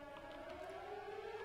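Distant sirens wail inside the Siren Head video game, a faint, steady, slowly rising tone that carries on alone without a break.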